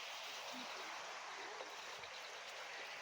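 Water from a mountain spring on a hiking trail at Mt. Ulap in Itogon, Benguet rushes in a steady, close hiss that fills the whole stretch.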